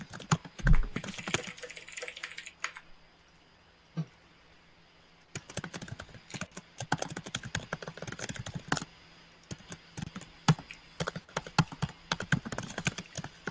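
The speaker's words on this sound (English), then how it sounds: "we can hear you typing your keyboard very clearly" Rapid, close keyboard typing from a gamer playing Dota 2, a dense irregular clatter of key presses that pauses briefly before resuming at full pace.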